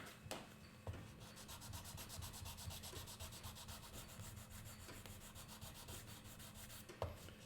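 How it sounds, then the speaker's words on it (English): Hand sanding on the wooden head of a violin bow, working along the side of the head and up into the stick: steady close rasping strokes in a continuous rhythm, with a few sharper taps, and no voices. "So I'm sanding the side of the head and a little bit up into the stick."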